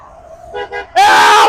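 A passing vehicle's horn blasts loudly from a roadside during a street workout, one long sustained honk after a couple of quieter short tones.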